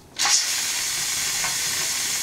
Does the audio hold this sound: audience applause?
no